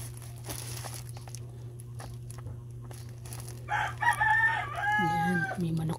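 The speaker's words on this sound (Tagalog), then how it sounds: "May manok pa sa background." A chicken clucks and crows in the background, faint and distant, over a steady low hum.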